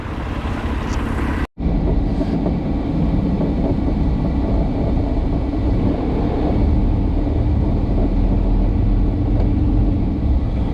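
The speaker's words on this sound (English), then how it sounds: "let me get in this truck, put it in gear, and go unload this load" A loaded semi truck pulls out of a terminal yard, its engine giving a steady, loud, low rumble that continues after a brief cut near the start.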